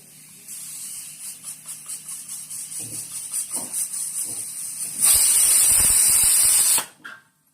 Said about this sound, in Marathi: दुसरी शिट्टी आणि गॅस बंद